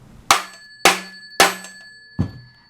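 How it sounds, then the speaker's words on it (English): Four hard metallic blows of a hammer striking a real payphone, each a loud clanging hit with a ringing tail, spaced unevenly with a longer gap before the last. "I got a hammer here. I'm gonna bang it."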